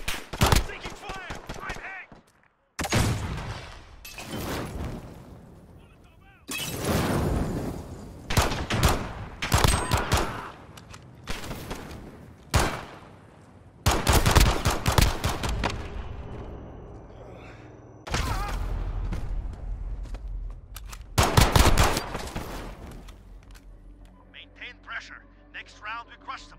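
Rapid automatic and single gunshots in Call of Duty: Modern Warfare, a 2v2 alpha match, come in loud close bursts separated by brief lulls, with game voice callouts over the firing.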